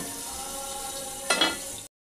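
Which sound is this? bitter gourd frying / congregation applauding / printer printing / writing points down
bitter gourd frying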